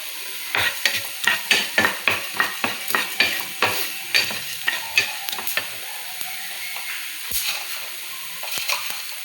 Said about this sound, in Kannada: ಇವಾಗ ಇದಕ್ಕೆ ಧನಿಯಾ ಬೀಜ ಸ್ವಲ್ಪ ಹುರಿತಾ ಇದೆ